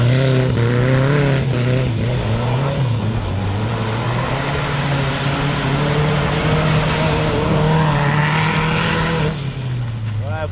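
A turbocharged BMW 318is engine drones loudly and continuously while driving, its pitch rising and falling, with a voice heard intermittently over it.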